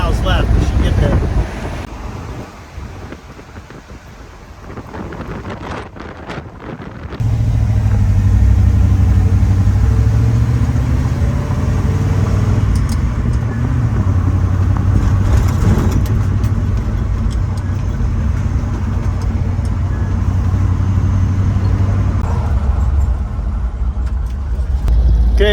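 Jeep J20 pickup truck cruising at highway speed while towing a trailer, with a loud, steady low engine and road drone plus heavy wind rush; the roar steps up sharply after a quieter, gustier opening stretch.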